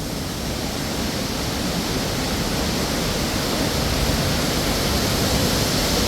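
Zapata Falls, a 25-foot waterfall on South Zapata Creek at 9,400 feet, roaring as a dense, steady broadband rush of falling water close by, unbroken throughout with no voices.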